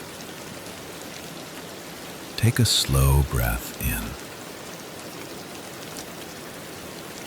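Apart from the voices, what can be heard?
rainfall on a quiet night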